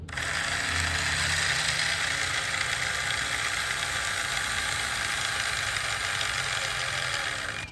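A power side mirror motor grinds steadily as it folds a sedan mirror fitted to a Toyota Kijang Grand Extra, a continuous whirring ratchet-like buzz heard up close with no talking.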